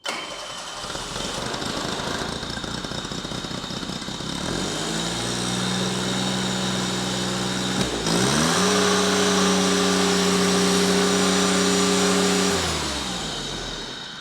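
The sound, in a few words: John Deere carbureted engine starting cold and idling lopey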